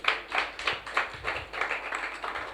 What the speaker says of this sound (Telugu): చప్పట్లు కొట్టారు ఒకసారి.